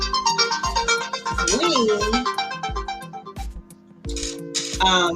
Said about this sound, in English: Got to turn my phone off.